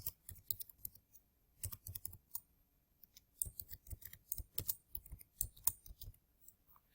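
Rapid bursts of keystrokes on a computer keyboard as login credentials are entered, clicking in uneven clusters with short pauses between, close and clear with no talking.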